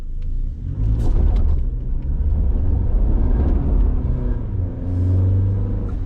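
2020 Toyota Tacoma SR with a four-cylinder engine pulls out of a gravel pit, a deep steady rumble swelling as it accelerates, close and fairly loud with tire crunch on loose stones.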